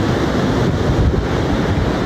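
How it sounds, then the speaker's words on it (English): Ocean surf roars continuously, blended with gusty wind buffeting the microphone; loud and close, with no voices. "the waves are too high."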